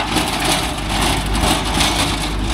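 A Kubota MU4501 45hp tractor engine runs under load driving a 42-blade rotavator in a coconut plantation, a loud, close, steady low rumble with dense churning noise and no talk.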